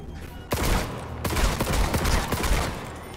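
Rapid pistol gunfire in Cyberpunk 2077, a close burst of loud shots in quick succession that starts abruptly and keeps cracking steadily through to the end.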